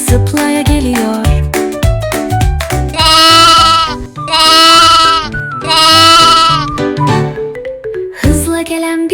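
Lamb bleating in a children's animal-sounds song, loud drawn-out wavering bleats repeated three times over upbeat music with bouncy instrumental accompaniment.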